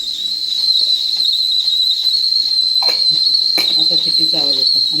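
A pressure cooker heating milk gives a continuous, piercing whistle that holds steady and loud throughout, while someone speaks over its latter half.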